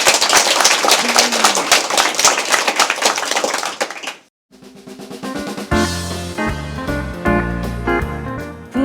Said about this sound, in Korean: 선생님 건강을 생각하면서 우리 박수 한번 칠까요?